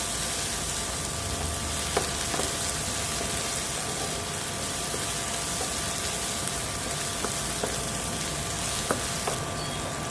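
Finely chopped tomato fries in a pan for sukat, a steady close sizzle with occasional light clicks and taps of stirring, no voices.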